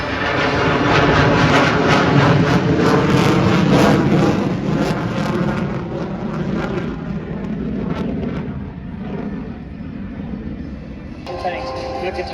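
F-15 fighter jet making a slow pass down the show line at an air show, a loud, broad, sustained engine roar that gradually fades while an announcer talks over it.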